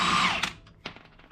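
A power tool breaking loose the axle nuts on a 1999 Honda Civic gives a short, bright whir, then two sharp impact bursts that fade quickly, close to the listener.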